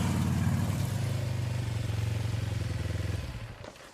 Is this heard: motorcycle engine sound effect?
yes